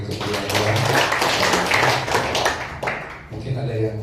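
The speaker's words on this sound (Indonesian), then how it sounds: "Tuhan, tepuk tangan bagi kemuliaan Tuhan." A church congregation claps in praise to God, a dense, steady patter of many hands filling the space, with voices and music running underneath throughout.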